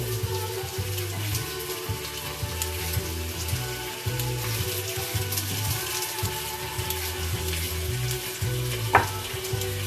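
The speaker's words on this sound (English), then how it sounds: "these are sizzling a bit" Ingredients for a herby chicken stew, including carrots, sizzle steadily in a frying pan, a loud, continuous crackle with a low bubbling pulse underneath and a single sharp clink near the end.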